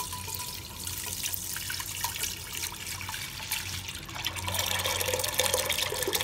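Soybean soaking water being poured off for tempeh-making, a soft continuous splashing flow that grows fuller and brighter toward the end, close by and with no talk.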